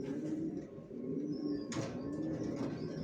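A pair of young adult grizzle racer pigeons coo softly and steadily close by, a low continuous murmur with a brief rustle partway through, no voices.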